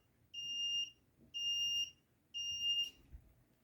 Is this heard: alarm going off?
yes